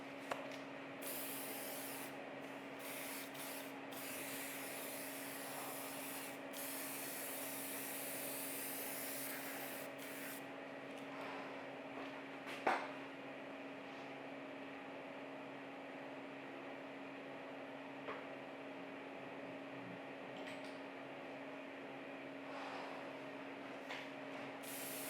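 An airbrush or spray can hisses in steady bursts while paint goes onto a 1/4-scale Aquaman figure, faint and hushed, with short pauses and one brief click midway.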